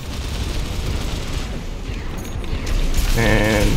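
Missiles exploding around a tetrapod mech in Armored Core 6, a loud, continuous roar of blasts and mechanical noise that swells near the end with a sharp whining tone.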